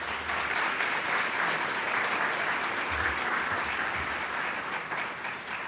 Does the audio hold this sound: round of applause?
yes